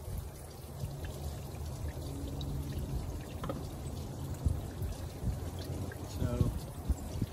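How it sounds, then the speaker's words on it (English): Engine coolant draining out of a Ford F250 into a bucket: a steady, close pouring and splashing stream that runs throughout while someone talks over it. "there goes all that coolant, you hear it?"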